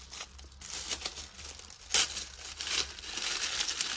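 Paper packaging around a set of binder dividers is crinkled and torn open by hand, a close, fairly quiet run of rustles and short ripping bursts with one sharper tear near the middle.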